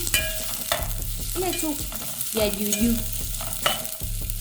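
Onions cooking and being stirred in a pan, with steady scraping and stirring strokes over a soft sizzle, close up and fairly loud, no talk.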